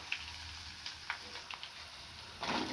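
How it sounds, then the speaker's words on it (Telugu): Garlic, ginger, dried chillies and spices frying in oil, a steady hiss of sizzling with a few light ticks and stirring scrapes, rising louder toward the end. "కరివేపాకు రెబ్బలు, జీలకర్ర వేసుకొని వేయించుకోవాలి."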